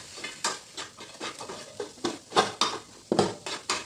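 A spoon mixes turmeric, chili, salt and lemon into a cauliflower paratha filling in a bowl, making rhythmic, close scraping and stirring strokes about every half second, with no voices.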